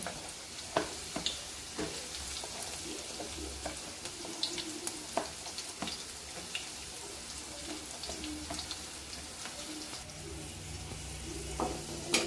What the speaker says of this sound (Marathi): लसणाला छान फोडणी द्यायची।